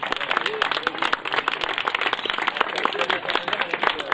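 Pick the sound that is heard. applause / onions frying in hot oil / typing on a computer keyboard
applause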